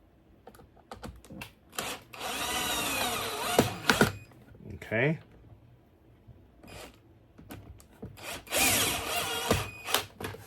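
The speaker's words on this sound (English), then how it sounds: "let me use a drill for this one." Bursts of a power drill whirring in short runs while driving screws into a Bissell Crosswave foot/nozzle assembly, with clicks and handling noise between them and a brief spoken word.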